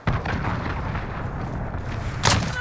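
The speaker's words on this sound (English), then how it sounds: "Missile on the way." Missile strike explosion in Call of Duty: Modern Warfare, a loud, sustained rumbling blast that starts abruptly and rolls on, with a second sharp burst near the end.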